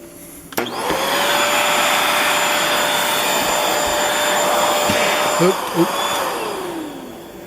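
A shop vacuum on a router setup roars steadily at close range, briefly sucking up small project-box screws that rattle through the hose near the end, with a short exclamation from a person.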